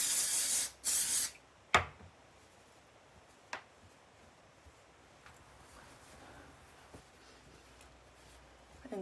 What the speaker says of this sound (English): I spray from underneath.